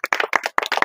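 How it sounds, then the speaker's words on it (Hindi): An audience at a Hindi-speaking honouring ceremony claps in short, uneven bursts with brief gaps, loud and close, sounding like a small group rather than a large crowd. "आप सबसे एक बार फिर से अपील करूंगी कि इनके लिए जोरदार तालियां बजाएं"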